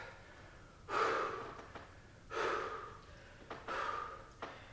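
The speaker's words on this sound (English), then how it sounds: "Taking a deep breath." Slow, deep breaths drawn during a yoga session for anxiety, three long airy inhale-exhale swells close to the mic with short pauses between, no speech.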